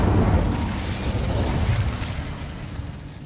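The Incendio fire spell in Hogwarts Legacy gives a deep whooshing boom of flame that bursts loud at the start, then rolls off into a fading roar.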